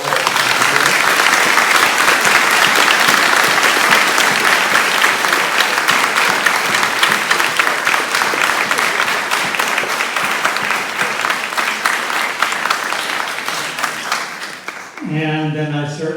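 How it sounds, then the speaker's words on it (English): A seated audience at a Ballard district council primary candidates forum gives a loud, sustained round of applause that runs steadily for about fifteen seconds before fading out, with a voice beginning to speak at the very end. "if you want to go on a nice round of applause"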